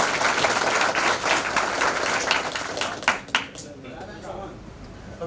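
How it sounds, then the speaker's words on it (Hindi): Audience applause at an Indian election-related employees' association event, a dense burst of clapping that fills the first three seconds, then thins to a few scattered claps before fading under background murmur. "तालियां जोरदार बजाय करिए"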